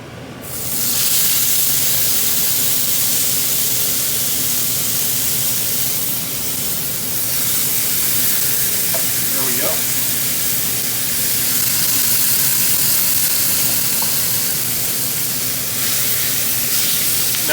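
Marinated meat hits a hot cast iron skillet on medium-high heat and sizzles. After an abrupt onset, a loud, steady hiss holds close and unbroken with no speech.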